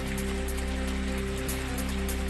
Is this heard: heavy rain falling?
yes